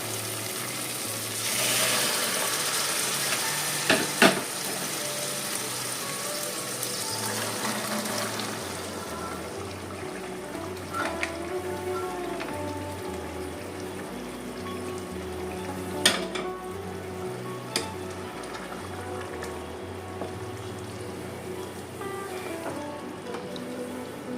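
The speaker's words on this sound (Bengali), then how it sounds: "মটরগুলোকে ঢেলে দিয়েছি মটরগুলোকে এবার একটু নেড়ে দিচ্ছি" Green peas tip into a fried spice paste and are stirred through it in a pan, giving a steady close sizzle with scraping stirs and a couple of sharp clatters, continuing without any talk.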